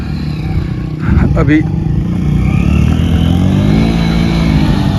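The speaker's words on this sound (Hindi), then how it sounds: "ये एक दूसरा बाइक मंगवाया जिस पे बैठ के तो जा रहे हैं" A motorcycle rides through the Cholistan desert, its engine a steady mid-pitched drone that grows louder after a moment, with someone speaking briefly over it.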